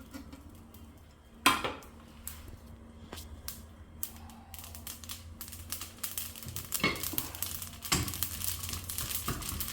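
Sesame seeds dropping into a hot kadai and being dry-roasted, with a sharp metallic clatter near the start followed by scattered crackles, light scraping and rattling against the pan.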